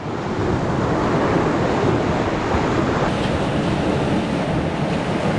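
Sea at a bay with a bit of swell and chop, waves washing continuously under gusty wind buffeting the microphone, a loud, unbroken rushing roar with no distinct breaks.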